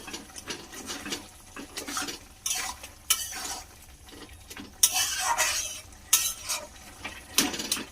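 Spatula scraping and stirring banana-stem curry with potatoes and small shrimp in a pan, irregular clattering strokes with soft sizzling between them, close and fairly loud, no voices.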